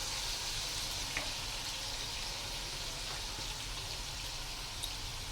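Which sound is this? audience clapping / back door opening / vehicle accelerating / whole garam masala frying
whole garam masala frying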